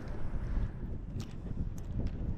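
Strong northeast monsoon (amihan) wind gusts over open sea during a fishing trip, a steady low roaring buffet with gusty swells throughout, near and fairly loud, with no voices.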